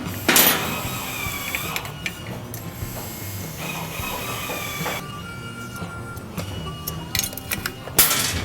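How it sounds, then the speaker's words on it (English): Exhaust bolts being removed and dropped while taking off the head pipe of a Kawasaki 450 dirt bike, with scattered metallic clinks, ratcheting tool clicks and small clatters, close by in a quiet workshop. "Dropping bolts, no big deal."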